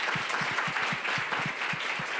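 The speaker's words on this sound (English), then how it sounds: "Very welcome, and a big round of applause." An audience at a European funding conference applauds steadily, a dense continuous crackle of many hands with a few louder, evenly spaced nearby claps thumping through, heard alone without speech.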